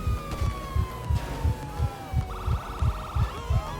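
A steady heartbeat thumps at an even rhythm, about three beats a second, during gameplay in the LSPDFR police mod for GTA V, while a falling siren-like tone and a pulsing electronic whine run over it.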